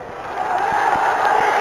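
A large crowd at a political rally in Gazipur responds with a sustained roar of cheering, faint scattered claps popping through the loud, unbroken noise, with no speech over it.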